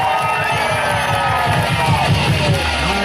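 Crowd at a Meru County gathering claps and cheers loudly and steadily, dense throughout with whoops and shouts over a low murmur of voices.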